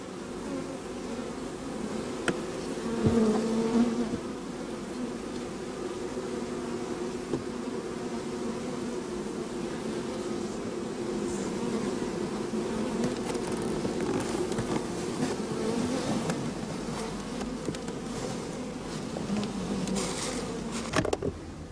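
Honey bees buzz at an open hive during a beekeeping inspection, a continuous dense drone of many insects close by, with a few louder passes from individual bees and no talking.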